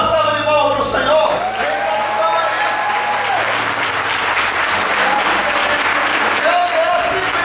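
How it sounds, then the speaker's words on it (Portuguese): A church congregation applauds during a worship service: loud, sustained clapping from many people, with a voice singing or calling out over it at the start and end. "Se você quer dar uma salva de palmas para o Senhor"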